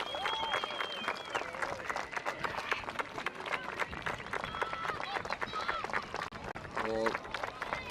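Football crowd applauding as the Þróttur Vogum and Keflavík teams walk onto the pitch, a continuous spread of clapping and crowd noise with voices and occasional whistles through it.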